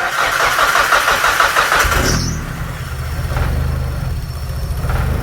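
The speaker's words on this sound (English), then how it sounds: "start it up. So this is the potentially last startup of the car." A car with a known fault, spark plugs and coils just refitted, cranks with a rapid rhythmic churn, catches, then settles into a steady low idle, close and loud.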